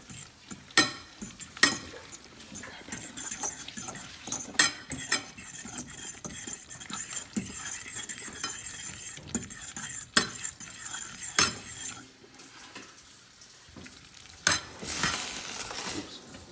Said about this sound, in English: I'm going to mix that all around.